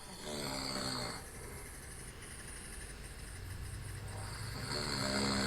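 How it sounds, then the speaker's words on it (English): A person snoring in sleep, picked up by a smartwatch on the nightstand; low, rasping breaths rise and fall in a slow rhythm, quiet and somewhat muffled against steady background hiss. "that's me snoring."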